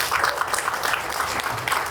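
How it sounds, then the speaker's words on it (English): A crowd claps steadily at the outdoor grand opening of a city dog park, a dense, even patter of applause lasting a couple of seconds with no talk over it. "So let's give them a round of applause."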